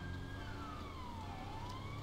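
A police siren wails in GTA V with the LSPDFR mod, a fairly faint, slow falling-then-rising tone over a steady engine drone, with no talking.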